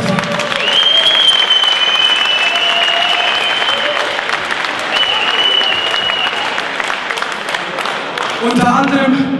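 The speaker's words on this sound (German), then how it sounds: "Bitte Applaus" Loud, sustained applause from a crowd at an MMA event, dense clapping filling the space, with a voice calling out over it toward the end.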